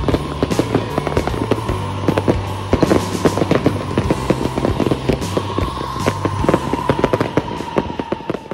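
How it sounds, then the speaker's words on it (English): New Year's Eve fireworks go off all around in Antigua, Guatemala, as dense bursts of bangs, pops and crackles pile up without pause. A steady musical beat plays underneath. "There are literally fireworks everywhere."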